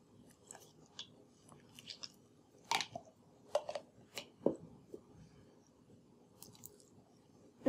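Slime being squished and mixed with crunchy bits, giving faint, scattered crackles, pops and wet snaps at an uneven pace, close and quiet with no speech.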